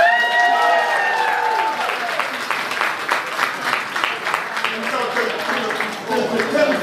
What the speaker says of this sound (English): we'll clap for the late great pioneer AJ Extravaganza